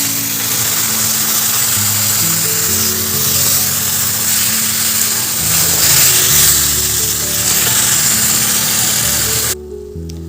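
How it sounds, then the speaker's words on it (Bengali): Water poured into a pan of fish curry with drumsticks sets off a steady, loud sizzle and hiss that runs for about nine seconds, then cuts off. "এরপর দিয়ে দিচ্ছি জল।"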